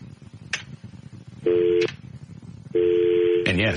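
A telephone gives short dialing tones, two sustained beeps with brief clicks and a chirp between them, sounding close and loud under faint background talk.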